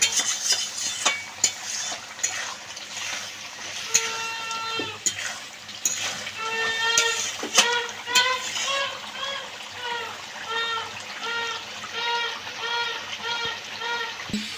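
Boiled mutton is stir-fried in a pot: a spatula knocks and scrapes through a soft sizzle, and a run of repeated high squeaking tones carries on through the second half.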